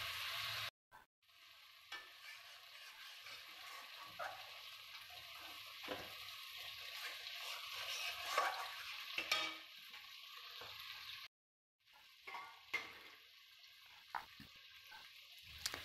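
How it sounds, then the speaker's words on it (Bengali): Mutton curry sizzles steadily in a hot pan while a spoon stirs and scrapes through it, with occasional clinks against the pan and two brief silent gaps. "পাঁচ 7 মিনিট ভালোভাবে কষতে থাকবো।"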